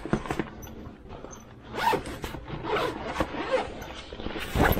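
A zipper on an Acer Predator laptop bag is pulled open and closed in several quick raspy strokes, close and fairly loud, with no talk over it.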